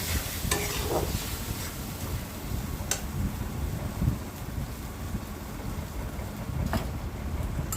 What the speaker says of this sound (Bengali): এরপর এটাকে ভালো করে নেড়ে নেব।